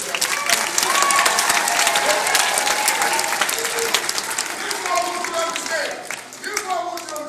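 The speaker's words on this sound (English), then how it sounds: "Y'all give Reed a hand clap" An elementary school audience of children claps loudly and steadily, a dense crowd applause with scattered voices and cheers mixed in that tapers off near the end.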